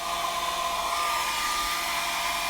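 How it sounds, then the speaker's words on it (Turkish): Hair dryer running as a load on a 500 W Victron Phoenix pure sine inverter in a caravan electrical system, giving a steady, loud, close whirring blow that lasts the whole time. "Saç kurutma makinesiyle deniyorum."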